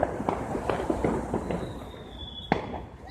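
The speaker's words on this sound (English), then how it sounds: "fireworks, man, they're all over the place" Fireworks crack and pop at sunset amid a stormy evening, a run of sharp bursts over steady background noise, with one louder close bang near the end followed by a thin whistle.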